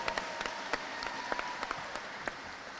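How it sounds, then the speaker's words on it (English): A crowd applauds for a women's basketball coach at a university coaching introduction, a sustained, even roar of clapping with a few sharper close claps popping out, moderately loud and free of speech. "give her a round of applause"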